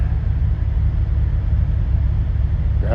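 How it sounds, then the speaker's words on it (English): Truck engine rumbling while driving, a loud continuous low drone with a steady throbbing pulse, heard alone without talk. "Driving a truck."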